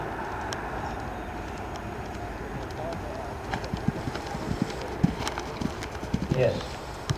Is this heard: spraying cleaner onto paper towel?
no